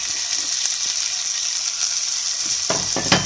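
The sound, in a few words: tomatoes added to pan, sizzling in oil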